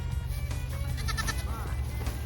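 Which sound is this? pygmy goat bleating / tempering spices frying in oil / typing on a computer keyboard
pygmy goat bleating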